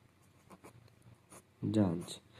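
Faint scratchy strokes of a marker drawing a line on a board during a math lesson, followed by someone speaking close by.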